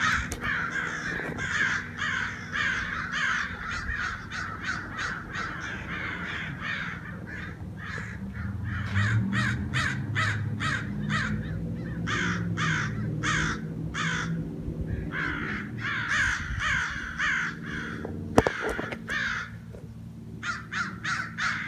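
Crows cawing repeatedly in bursts of harsh calls, several rapid series overlapping at close range with steady outdoor background noise.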